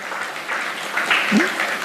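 Applause from a church congregation during a worship service at GBI Alfa, a dense, steady patter of many hands clapping throughout, with faint voices mixed in.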